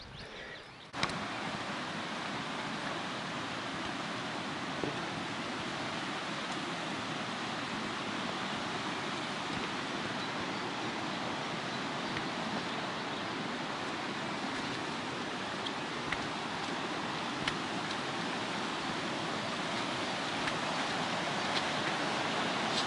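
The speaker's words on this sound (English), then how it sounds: "I can hear the river" A moderately full stream runs beside a coast-to-coast walking path on a mild, dry day. Its rushing water makes a steady, even broadband wash that stays constant for over twenty seconds, and no one speaks.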